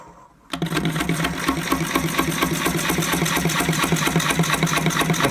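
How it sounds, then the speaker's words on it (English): An ash wall platter spinning on a wood lathe while a gouge makes bevel-rubbing cuts: the motor starts up abruptly, then a loud, steady, rhythmic whir with a repeating thump runs continuously and close. "for the main cuts, I use the gouge in the standard way"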